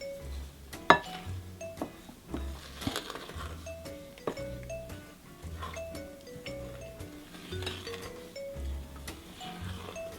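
A spoon stirs self-raising flour into Trinidadian banana bread batter in a bowl, giving soft scraping and occasional light clinks against the bowl, while a quiet, low musical hum runs underneath.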